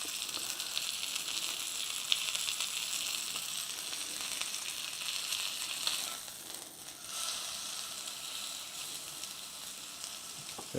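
Lamb rump sizzling in a hot pan, a soft, constant crackling hiss that stays fairly quiet and steady throughout.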